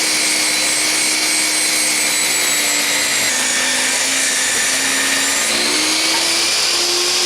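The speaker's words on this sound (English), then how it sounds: "I'm just going to rip the walnut board right down the middle." A saw ripping a walnut board lengthwise, making a loud, continuous high whine with a steady pitch that shifts slightly as the cut goes on, with no speech.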